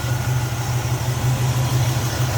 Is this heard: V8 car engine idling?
yes